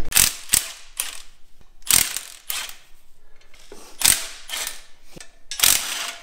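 A ratchet wrench with a thin-walled socket turns a bolt during the teardown of a blown Mk7 Golf R engine, giving loud bursts of rapid clicking in about six separate pulls with short pauses between them.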